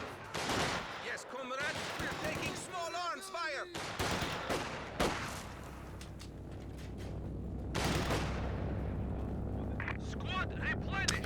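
A Vickers machine gun fires in a large 4v4 Company of Heroes 2 battle, with rapid bursts of gunfire over dense combat noise while a commentator talks over the action.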